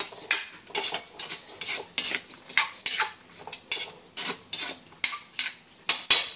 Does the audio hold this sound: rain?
no